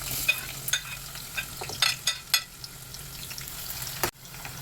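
Onions frying in about four spoons of oil in a pan, stirred: a continuous sizzle with scattered scraping clicks, close, ending in a sharp knock near the end, no talk.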